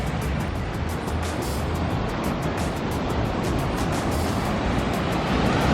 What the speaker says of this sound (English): Those waves are really strong